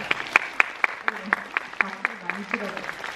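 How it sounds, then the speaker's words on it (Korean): Sparse rhythmic clapping from an audience at a film talk event in a Seoul cinema, with distinct individual claps at a steady pace and a voice speaking underneath. "박수"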